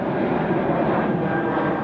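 An Embraer E195-E2 jet taking off at Amsterdam Schiphol gives a steady, dense engine roar that holds evenly for a brief moment, alone and fairly close.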